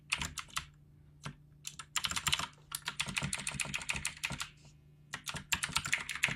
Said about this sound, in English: Don't worry about my keyboard.